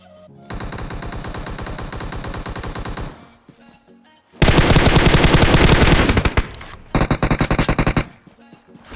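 Gunfire in a battle royale video game, heard as loud, close bursts of rapid automatic fire. One long burst is followed by a short pause, then a heavier, denser burst and a few choppy final volleys, with no talking.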